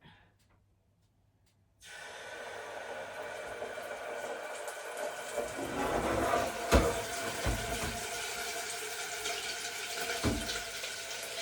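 A 250 ml tin of milk is poured into a cooking pot while sago payasam is being made. After a short silence, a steady liquid gush begins and grows fuller and louder, with a few splashing bumps near the end.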